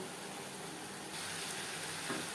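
Ridge gourd with onion fries in a pan over a high flame, giving a faint, even hiss of sizzling that swells slightly partway through, with no voices.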